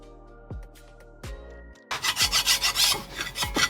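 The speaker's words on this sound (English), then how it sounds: "we're going to just lightly file that little burr from running a tap through it" A hand file lightly rasps a tap burr off freshly cut threads in a bore prepared for a Heli-Coil. A few soft strokes come first, then a denser run of quick, rhythmic rasping strokes close by, with no talk.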